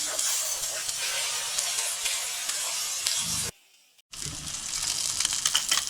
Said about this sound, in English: I already seared the front side of the fish, or the presentation side of the fish